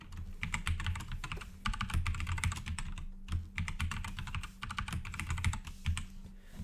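Someone types a password on a computer keyboard, with quick bursts of close, crisp key clicks separated by brief pauses.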